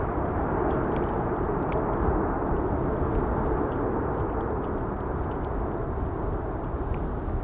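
Thrust reversers on an Emirates jet landing at Amsterdam Schiphol on a windy day, heard as a steady, broad, rushing roar that holds at the same level for the whole stretch, at a distance, with no talk.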